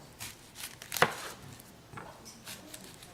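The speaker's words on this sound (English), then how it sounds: "you can cut up your onions and your apple" Knife cutting onions and apple on a board during a holiday cooking demonstration, a few scattered chops with one sharper strike in the middle, close and fairly quiet with no talking.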